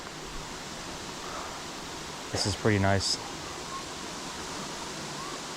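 Steady broadband rushing of water from the top of a waterfall at Mayo River State Park, North Carolina, fills the whole clip, with someone briefly talking over it.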